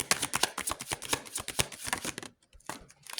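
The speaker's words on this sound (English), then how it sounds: "It ain't the cards, it's where I'm shuffling." A deck of tarot cards is shuffled by hand, a rapid run of crisp riffling and slapping bursts that stops briefly near the end before one more flick.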